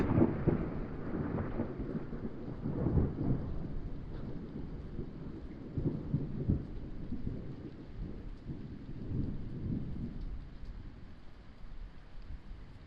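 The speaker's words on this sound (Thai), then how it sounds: "โอ้เสียวฟ้าผ่า" Rumbling thunder rolls through a storm with steady rain, low booming surges returning every few seconds at moderate distance, backed by constant rainfall and some wind.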